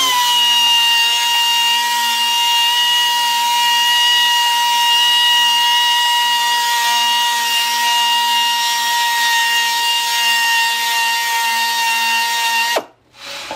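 A steady, loud, high-pitched whine of a power sanding tool working sportbike rim castings, running unbroken and close before cutting off abruptly near the end.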